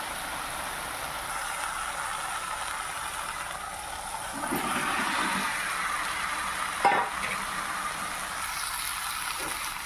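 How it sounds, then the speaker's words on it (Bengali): Spice paste with green plantain and potato pieces fries and is stirred in a pan: a soft continuous sizzle, with scraping stirs swelling midway and a sharp utensil knock near the end. "ভালো করে মশলার সাথে কাঁচকলা আলুগুলি ভালো করে মিশিয়ে নিয়েছি"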